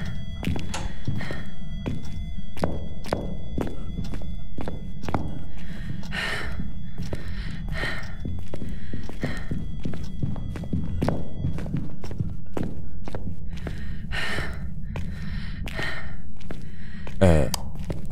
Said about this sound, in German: Habt ihr das gerade gehört? Die Schritte?